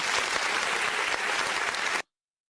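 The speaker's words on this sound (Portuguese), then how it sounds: "Uma salva de palmas aqui para o Financial Times." A studio audience gives a short burst of steady, dense clapping that cuts off abruptly after two seconds.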